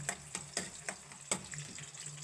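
Garlic sizzling in oil in a pan as vegetables are sautéed, soft crackling with a few sharp ticks and pops, quiet and close.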